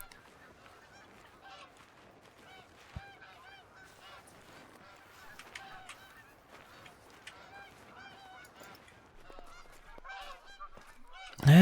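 Snow geese honk in theHunter: Call of the Wild, on a high-altitude Askiy Ridge hunt. Many scattered, overlapping calls sound at a moderate distance and keep going throughout, then end in a sudden loud burst.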